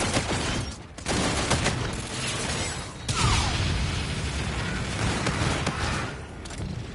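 Heavy, continuous G-Rail gunfire in an online shooter, dense and loud throughout with a couple of brief dips, and no talking.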